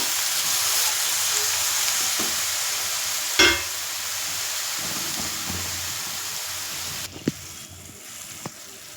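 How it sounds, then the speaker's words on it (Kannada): Carrots frying in a pan for carrot and semiya payasam, a steady soft sizzle with one sharper scrape near the middle and a few light clinks toward the end, no voices. "ನಮ್ಮ ಕ್ಯಾರೆಟು ಚೆನ್ನಾಗಿ ಫ್ರೈ ಆಗಿದೆ"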